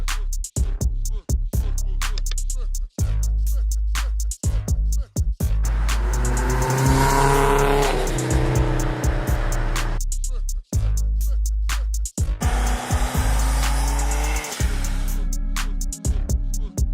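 Nissan Skyline engine with the exhaust disconnected near the manifold, running straight-piped: loud, raw, close revving with sharp crackling pops and choppy bursts between rising throttle pulls.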